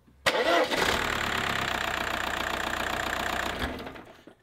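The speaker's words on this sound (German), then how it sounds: "Ich mache jetzt den Motor an" A VW Passat engine cranking and catching during a power-steering fluid change, followed by a steady, loud close-up idle that fades after about three seconds.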